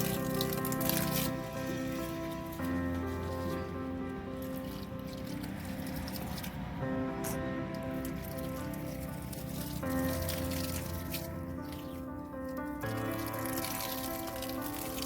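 Water from a pipe runs steadily onto grapevines in a vineyard, a continuous close splashing and patter like rain that lasts throughout with no talking.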